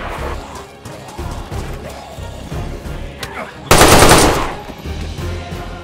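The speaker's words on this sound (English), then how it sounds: "Let me shoot him." Automatic gunfire in the video game DayZ: a loud, sustained burst of rapid shots erupts partway through, preceded by quieter game noise and brief talk, then fades back under low ambient sound.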